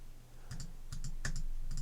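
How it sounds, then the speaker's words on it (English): Fingers tap on the desk holding a FIFINE K052 USB microphone, giving a short rhythmic series of soft, close knocks, about six of them spread over two seconds against a steady low hum. "So right now, like tapping the table,"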